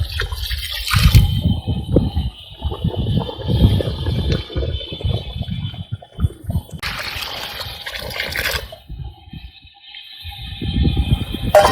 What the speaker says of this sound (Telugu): వాటర్ యాడ్ చేసుకుంటాను